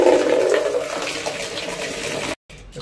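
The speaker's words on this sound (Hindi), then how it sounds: "अब पानी डालते हैं इसमें" Water running from a tap into a container, a steady gushing splash for over two seconds before cutting off abruptly.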